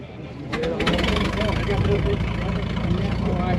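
A Case 730 tractor idles steadily at a farm auction, its engine a continuous mid-low rumble throughout, with people talking nearby over the running motor.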